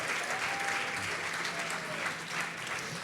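Steady applause fills a church during a Spanish-language sermon, a dense even patter of clapping hands that holds for the whole stretch without voices over it.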